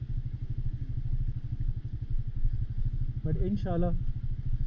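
A motorcycle rolls down a steep, skidding mountain road in Kashmir, its engine a steady throbbing putter close by throughout, with someone briefly speaking over it near the end.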